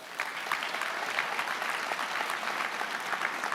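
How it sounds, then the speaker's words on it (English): An audience at a senior awards night claps in a dense, even round of applause lasting a few seconds, moderately loud with no voices over it. "So let's give them a round of applause."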